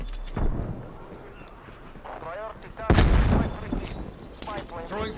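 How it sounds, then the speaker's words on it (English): Shotgun blasts in a video game, a couple of sharp booming shots with a louder heavy blast in the middle, under excited talk from players. "Oh, shotgun!"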